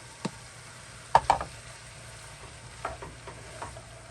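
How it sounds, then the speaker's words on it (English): Onions, garlic and mushrooms are stirred in a pan with soft, scraping spoon strokes and a few sharp knocks against the pan, faint and close. "Give it a bit of a stir."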